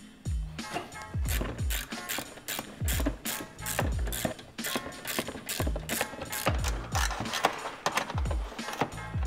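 A ratchet drives 8 mm screws on a Mercedes W212 front grille, close and fairly loud, in quick repeated bursts of clicking with sharp knocks between.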